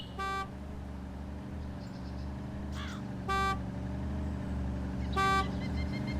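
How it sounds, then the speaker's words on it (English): A car horn sounds three short honks spaced a couple of seconds apart over a steady low engine rumble on the road, loud and close. "He's beeping the horn and everything."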